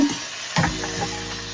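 Chili sauce, soy sauce and tomato sauce stirred into a hot sizzling pan, a steady fry hiss with a scrape of the spoon partway through, close by and without any talking.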